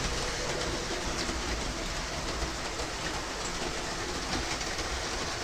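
Sound-fitted Mallard locomotive on a DCC model railway, sitting in a siding, gives a steady, fairly quiet hiss and rumble with faint clicking texture that runs continuously, with no talking.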